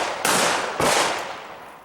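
Pistol shots at an IDPA shooting match outdoors, two sharp loud cracks about half a second apart, each trailing into a long echoing decay, with a third shot starting at the very end.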